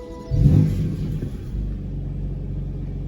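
A BMW M4 CS engine cranks and catches, a brief rumbling surge that quickly settles into a low, steady idle.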